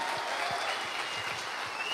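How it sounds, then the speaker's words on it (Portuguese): A church congregation applauding during a worship service, a continuous wash of many hands clapping, moderately distant and even, with no voices rising above it. "aplauda Jesus"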